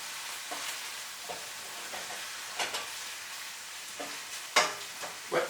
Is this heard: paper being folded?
no